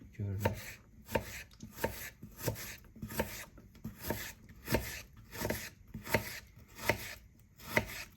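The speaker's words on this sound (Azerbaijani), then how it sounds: "Və soğanımızı da doğrayaq" An onion is chopped with a knife on a wooden board in a home kitchen, about a dozen crisp, evenly spaced cuts ringing out close and clear with no talking.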